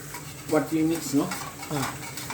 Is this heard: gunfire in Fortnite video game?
no